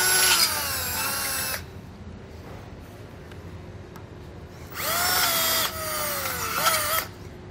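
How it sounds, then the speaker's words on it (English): A power drill grinds through a steel frame rail of a 2020 Jeep Wrangler, opening a half-inch hole in two loud, close bursts with a quiet pause between, its whine rising and dropping as the bit bites. "open it all the way up to a half inch, all the way through the frame rail."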